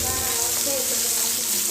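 Onions frying in a pan for biryani, a loud, steady, close sizzle with a continuous hissing crackle throughout.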